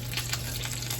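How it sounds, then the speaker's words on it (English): Stuffed chicken breast sizzles loudly in a hot stainless steel frying pan, a dense steady hiss of frying with a low hum beneath, close and continuous with no talk. "I put the chicken into the frying pan and it started frying right away."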